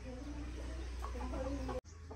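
Chickens cluck at a livestock market where goats are sold, with close, busy low clucks running steadily until a brief cut near the end.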